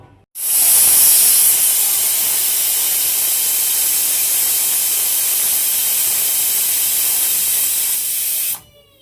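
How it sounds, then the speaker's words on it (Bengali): A pressure cooker cooking goat liver lets off a loud, continuous jet of hissing steam that starts abruptly, holds steady for about eight seconds, then cuts off sharply, with no one talking. "আপনাদের কুকারে যে দেখবেন সেই হিসাবে সিটি দেবেন"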